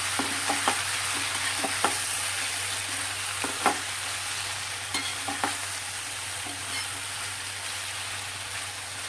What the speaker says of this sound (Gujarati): ફરી પાછું આપણે શાકને હલાવી દઈએ